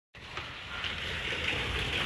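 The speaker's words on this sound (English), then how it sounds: "And it just started raining again." Steady rain begins and keeps falling, a constant broadband hiss with a soft splashing texture, fairly close and continuous, with no voices over it.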